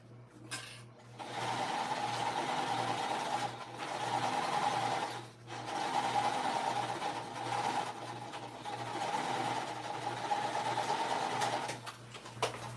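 A sewing machine stitches a seam on a crossbody bag in long, steady, close-up runs, pausing briefly between bursts, with no talking over it.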